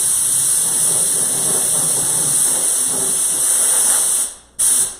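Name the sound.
compressed air hose blowing dust off the workpiece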